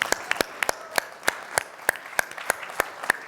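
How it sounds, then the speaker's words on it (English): Sparse applause from an event audience after startup pitches at a health-focused pitch showcase: scattered individual claps, some sharp and distinct, over a quiet room with no talking. "give a round of applause to the companies that have pitched today"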